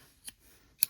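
Two crisp scissor snips cutting crochet yarn while fastening off an amigurumi flower petal, the second snip sharper and louder, with quiet gaps between.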